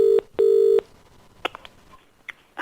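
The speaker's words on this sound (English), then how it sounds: "It's ringing anyway." An outgoing telephone call rings through on a radio show's phone line: two steady ringback tone bursts, then soft line clicks and faint noises before the call connects.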